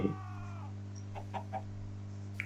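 A chicken clucks briefly in Minecraft's RLCraft modpack, a few soft, short clucks at moderate distance over a steady low game hum.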